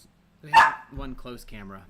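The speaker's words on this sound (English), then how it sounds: "And sorry about the dogs." Dogs give one sharp, loud bark near the start, then voices talk over a brief pause while the dogs stay quieter in the background of a casual indoor chat.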